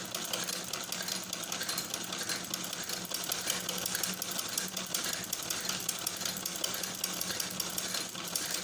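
A sewing machine stitching a curved baby collar on a ladies' frock, a rapid continuous mechanical rattle that runs unbroken at an even pace, close and moderately loud, with no talking.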